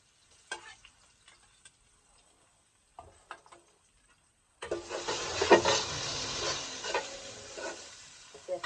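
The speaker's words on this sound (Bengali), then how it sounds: "প্রথমে আমি পেঁয়াজটা ভেজে নেবো" Chopped onions fry in a pan with whole cinnamon, cardamom and bay leaf, for a duck curry. Sparse soft clicks come first, then a steady loud sizzle starts about halfway and continues to the end.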